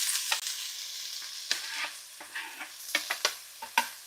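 Food sizzles and is stirred in a big pot on a stovetop during steak burrito meal prep, giving a faint steady frying hiss broken by several sharp scraping clicks of a utensil.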